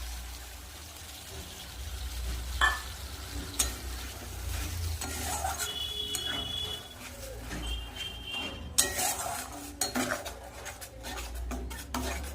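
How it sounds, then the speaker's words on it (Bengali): Fried masala in oil in a kitchen pan with cashews, raisins and poppy seed paste being added, soft stirring and sizzling with scattered utensil clinks and scrapes, fairly faint with a low hum beneath. "এখানে আমি মশলাটা ভালো করে ভেজে নিয়েছি দেখো তেল ছেড়ে দিয়েছে"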